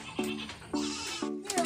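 A goat bleats three times in quick succession during a foot-and-mouth disease vaccination given under the skin, each cry loud, close and harsh, with short pauses between them.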